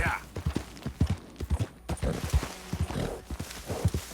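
Horse hooves clip-clopping in Red Dead Redemption 2: a close, rhythmic run of hoof beats at a walking pace, with a voice speaking briefly over them.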